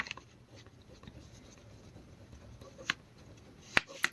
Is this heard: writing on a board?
yes